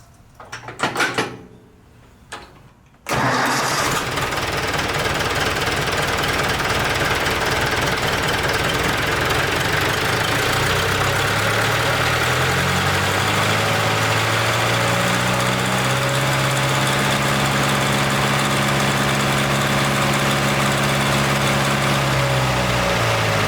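Ford 172 diesel engine after bleeding and tuning its injection pump: a few clunks, then it fires and runs loud and steady, with revs rising and falling before settling into a continuous idle.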